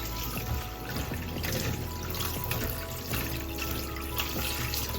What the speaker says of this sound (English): Then I will run it over cold water.